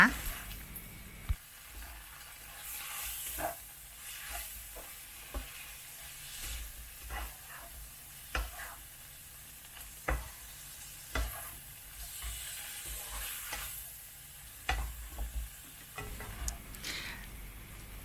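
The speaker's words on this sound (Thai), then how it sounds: "หลังจากนั้นเราก็จะผัดทุกอย่างให้เข้ากันค่ะ ผัดให้ตัวซอสทุกอย่างเคลือบไปในเส้นนะคะ" Wide rice noodles with seafood and soy sauce are stir-fried in a pan, giving a soft, low sizzle broken by intermittent sharp clacks and scrapes of a utensil against the pan at irregular intervals, close by.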